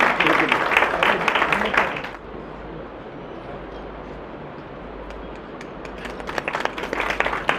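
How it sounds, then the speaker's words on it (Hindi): Audience applauding an honoree at an award ceremony, with dense clapping for about two seconds, a quieter stretch, then clapping building again toward the end. "जोरदार तालियां"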